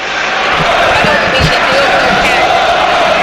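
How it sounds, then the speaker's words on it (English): Steady, loud crowd noise of football supporters applauding at Hillsborough stadium during Sheffield Wednesday versus Middlesbrough, a continuous wash of claps and murmur filling the stadium, with a few low thuds and voices underneath. "you can hear the appreciation from the crowd just for trying to do it"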